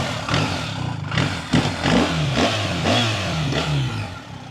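A 2024 BMW R 1300 GS motorcycle with its stock exhaust and automatic gearbox revs up close, giving a series of throaty throttle blips that rise and fall in quick succession, loud and near.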